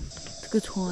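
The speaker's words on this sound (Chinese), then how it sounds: "都能听到蛐蛐的声音" Crickets chirping at night beside a river in the Amazon region, where a stalled riverboat drifts; a steady insect trill runs under a brief spoken phrase, with a couple of stronger chirps standing out.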